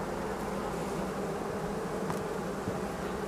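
Honeybees swarm around a beehive in a dense, steady buzz, loud and close, a constant hum of many insects without pauses or speech.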